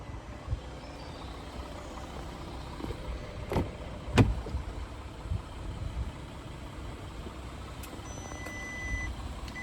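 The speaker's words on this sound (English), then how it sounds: "That's the car telling me off for having the key in my pocket when it should be in the car." A 2023 Volkswagen Touareg TDI V6 Black Edition sounds a couple of sharp electronic warning chimes over a low idling engine hum, short isolated beeps with quiet gaps between them.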